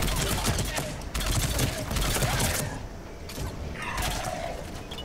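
Rapid bursts of gunfire in the game Mass Effect 3 crackle densely for a few seconds, then ease off, with a busy game soundscape and faint talk underneath.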